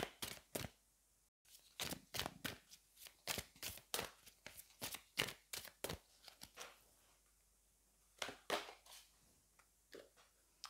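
Tarot cards being shuffled before a heart chakra card is drawn, a run of sharp, close riffling snaps in uneven bursts with short pauses between them.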